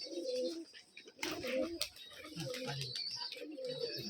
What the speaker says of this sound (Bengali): এটা বাহুই ঠুটের কবুতর একটা